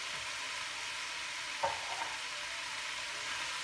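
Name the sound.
fried herbs stirred and mixed with onion in a pan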